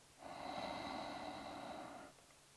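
A single long, steady inhale during a guided breathing exercise, soft and close, lasting about two seconds with no talk over it.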